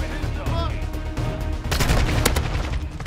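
Rapid automatic AK74U fire in Call of Duty Modern Warfare II multiplayer, a dense sustained burst of loud gunshots layered over game ambience, with heavier shots near the end.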